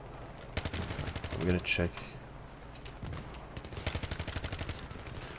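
Rapid bursts of MG36 machine gun fire in the game Battlefield 3, repeated volleys of fast automatic shots with a closer, louder burst near the middle, while someone talks briefly over the gunfire.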